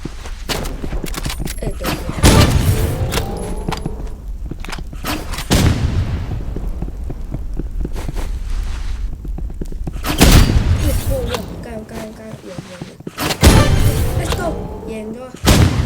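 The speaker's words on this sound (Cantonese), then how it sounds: "所以講係大炮最勁。" Cannon fire in a video game: four heavy booms at irregular intervals, each followed by a rumbling decay, with softer gunfire and game noise between them and voices at times.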